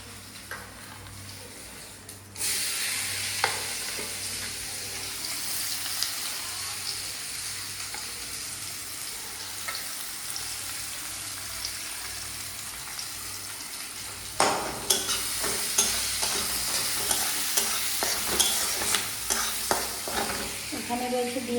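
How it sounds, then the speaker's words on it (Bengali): Chopped onion fries in a pan with a continuous hiss that jumps louder when added, followed by repeated scraping and clinking of a spatula stirring, growing busier near the end. "এই যে কুচানো পেঁয়াজ দেবো, কুচি করা।"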